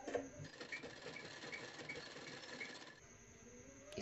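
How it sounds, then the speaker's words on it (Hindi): A sewing machine stitches along a fabric strip in a steady, even whir for about three seconds, then slows and stops, fairly quiet and close with no talking. "अब देखिए इस तरह पट्टी पर सिलाई लगा देना है।"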